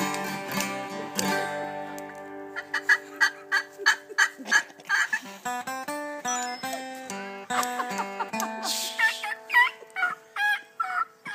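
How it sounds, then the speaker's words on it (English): Turkeys gobble and call in a rapid series of short rattling bursts, clucks and yelps, loud and close, tangled with busy layered tones, with no speech. "can you hear them turkeys calling?"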